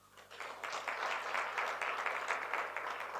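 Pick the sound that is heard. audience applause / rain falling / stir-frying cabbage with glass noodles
audience applause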